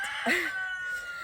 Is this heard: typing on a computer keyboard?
no